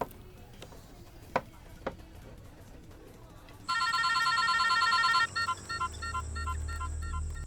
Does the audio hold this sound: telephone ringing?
yes